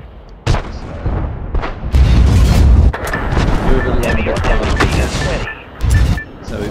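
Artillery fire in the World War I strategy game Frontline, loud booming blasts and rumbling impacts in quick succession, with a sharp burst near the start and another near the end.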